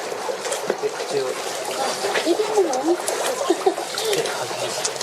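Water splashes and trickles as hands are washed at a shrine purification basin in Tokyo, in small irregular pours and drips heard close by under ongoing talk.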